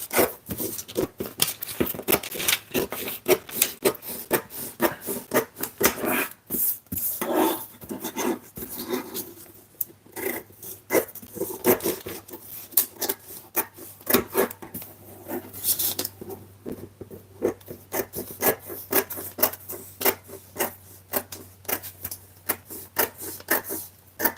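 Scissors snipping and rubbing through fabric pieces being cut for sewing, a close, irregular run of crisp cuts and rustles lasting throughout, with no talking.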